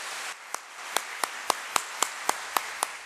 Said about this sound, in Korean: 참부모님에게 큰 박수를 올리겠습니다